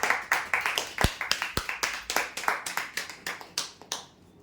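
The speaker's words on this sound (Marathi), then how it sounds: "जोरदार टाळ्या होद्यांसाठी" Clapping for a prize-draw winner at an event, a brisk run of sharp claps from a small group, close and fairly loud, then fading out at the end.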